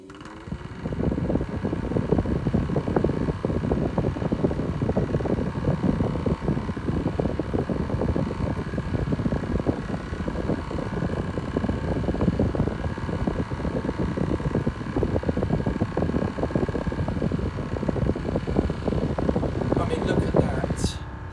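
A 1980s Vent Axia Micro desk fan running, a steady broadband whoosh of moving air that holds at an even level throughout after a brief start.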